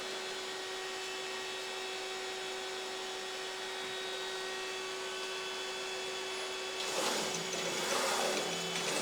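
A Sunnen SV-210 vertical honing machine runs a slow, low-RPM honing cycle with a steady electric hum and whine, then a rougher, louder grinding swish joins in near the end.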